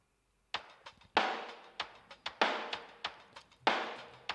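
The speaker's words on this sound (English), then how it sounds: "It's basically the same drum track. I just put it through a filter." A drum track put through a filter, with muffled, band-limited kicks and snares in a steady rhythm, alone with no voices.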